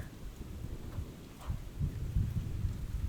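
Rain falls steadily with low thunder rumbling through it, on a high forested mountain under heavy cloud and fog, continuous and fairly close, with no voices.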